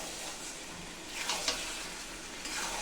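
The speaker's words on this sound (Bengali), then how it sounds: "এবার কিন্তু আমি আলুগুলোও দিয়ে দিলাম।" Potatoes and soybean chunks sizzling in spiced oil, a quiet continuous fry with a soft hiss and a few light stirring scrapes and taps close by.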